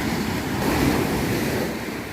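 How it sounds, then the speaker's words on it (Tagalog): Ocean waves surge and crash in a continuous loud wash at high tide on a beach in early morning, with wind buffeting the microphone throughout. "Malakas na yung alon."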